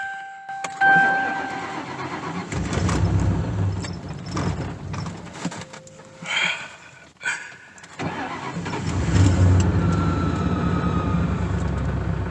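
Old rusty project car engine cranking and catching after a fuel pump fix, with repeated starter bursts, a few sputters, then a rough running idle nearby.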